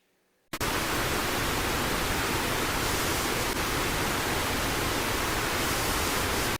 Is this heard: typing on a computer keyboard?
no